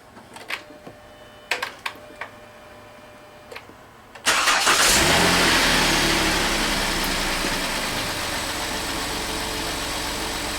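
A car engine cranks and fires during a battery test with leads clipped to the battery: several faint clicks, then the engine catches with a sudden loud roar and settles into a steady, slightly fading idle.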